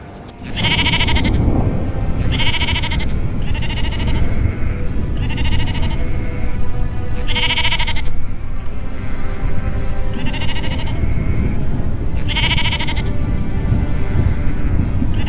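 A flock of sheep bleating repeatedly, several loud, close calls overlapping at irregular intervals above a steady low rumble of background noise.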